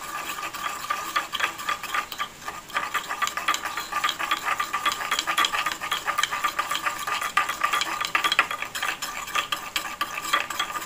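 A spoon works a thick tamarind facial paste with apple cider vinegar in a small bowl, making a fast, continuous clicking and scraping rattle up close, steady throughout with no voices.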